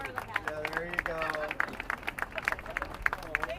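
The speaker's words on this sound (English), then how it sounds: "let's give her one big round of applause" A small outdoor crowd at a mayor's press conference in a neighborhood park gives a birthday girl a round of applause, with light scattered claps close by and voices mixed in.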